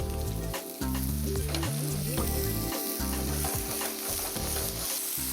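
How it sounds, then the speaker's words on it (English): Beef keftas sizzle and crackle in hot olive oil in a frying pan, a dense, steady frying hiss close up, with faint background music and no talking. "I'm going to just get my pan nice and hot, put some olive oil in it. I'm going to fry these."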